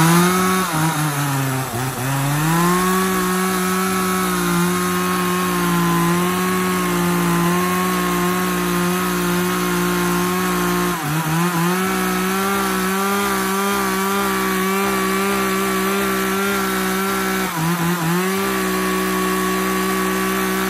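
Japanese Echo GC35A chainsaw engine idling and revving during a test run, a steady loud two-stroke drone with a few pitch dips and rises, alone without talk.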